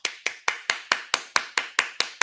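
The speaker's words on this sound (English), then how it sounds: "I can't even clap right." Sharp hand claps repeat at a steady, even pace, about ten of them in a row, loud and close with no voices.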